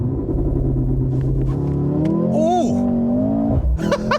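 A 2025 Mercedes-AMG GLC 43 SUV in sport mode makes a launch-control start, the engine droning and building in pitch through the gears while voices talk loudly inside the cabin.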